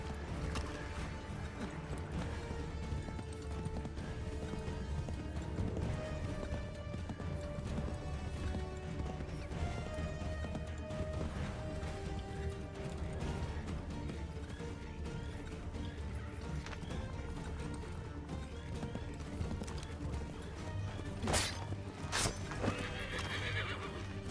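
A horse in the Assassin's Creed III video game, with steady clip-clop hoofbeats and whinnies over a dense game soundtrack and mechanical clatter, ending in a couple of sharp crashes.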